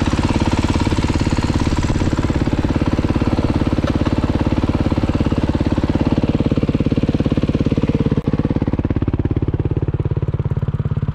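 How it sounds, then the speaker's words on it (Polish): A 2019 Senda 50cc motorcycle engine runs steadily and loudly up close, with a fast, even putter of the small engine and no talk. "Odjadę trochę tym, bo hałasuje"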